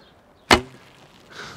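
An arrow loosed from a Mongolian laminated bow draws slightly short with a lightweight arrow: one sharp, close snap and thrum of the string, then a brief fading ring and a faint later swish.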